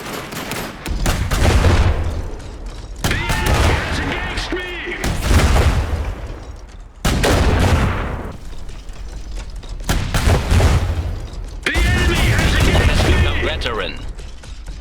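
Rapid cannon fire and paired rocket launchers from a heavy Saxony mech in Iron Harvest boom in loud repeated bursts, several volleys close together over a steady rumble.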